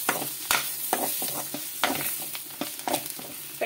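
Farm chicken curry with coriander is stirred in a pan, a close sizzling hiss broken by repeated spoon scrapes and clacks at an uneven rhythm.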